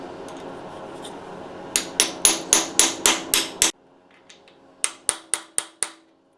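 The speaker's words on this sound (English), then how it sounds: "So I take the freeze plug with a 3/4 inch hole." A freeze plug with a 3/4 inch hole is hammered into a 1949–51 Ford Flathead engine block: two loud bursts of sharp metallic blows, seven quick strikes, a pause, then four more, alone and close.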